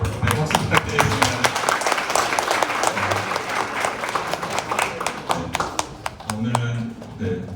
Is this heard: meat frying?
no